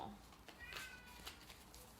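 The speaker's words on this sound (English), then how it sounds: "My kitty cat is trying to get in." A house cat meows faintly from the other side of a closed door, a few short, thin cries in quick succession, distant and quiet.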